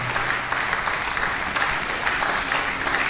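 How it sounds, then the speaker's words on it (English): An audience at a tax seminar on the Finance Act 2019 applauds, a dense continuous patter of many hands clapping throughout at moderate loudness. "Please a round of applause for her."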